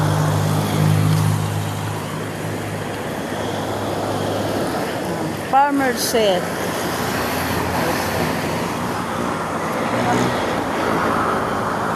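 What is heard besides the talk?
fast road traffic passing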